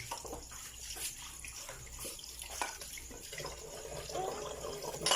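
Plates being washed under a running tap, with steady splashing water and intermittent clinks of dishware throughout, close and moderately loud.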